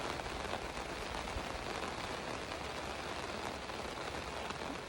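Light rain falls steadily in the Arizona desert backcountry near Quartzsite, spattering on surfaces and a side-by-side vehicle as a soft continuous hiss with no voices.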